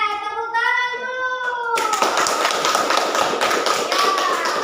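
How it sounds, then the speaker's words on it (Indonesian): Students in an Islamic religious education class clap their hands together, producing a dense, steady patter of applause that follows a brief sung or chanted voice. "Oke, tepuk tangan dulu"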